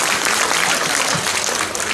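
Crowd at a political gathering in Himachal Bhawan, Delhi, applauding loudly, a dense, continuous wash of many hands clapping at close range without talk.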